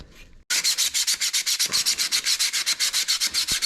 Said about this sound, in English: This is 220 grit sandpaper here. Just gonna sand up these scuff marks.